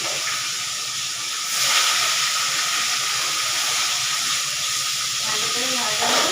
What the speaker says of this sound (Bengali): এখানে পেঁয়াজ রসুনটা ভাজা হচ্ছে।